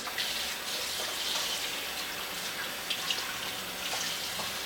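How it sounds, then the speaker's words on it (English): Cold tap water runs steadily over two whole raw oxtails, a continuous close splashing stream with small irregular gushes and no talking. "Go ahead and wash these with some cold water."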